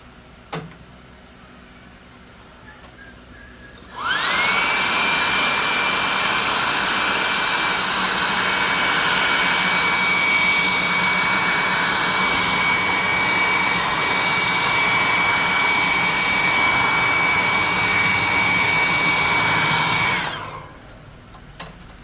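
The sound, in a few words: dryer drying wet paint on a miniature model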